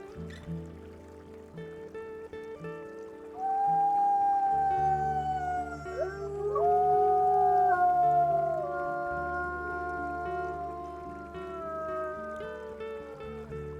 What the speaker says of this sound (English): I love Spruce's howl too